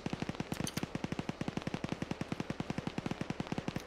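Rapid automatic gunfire from an M1 Abrams tank in the video game ArmA 3, a fast steady stream of loud, evenly spaced shots running continuously without pause.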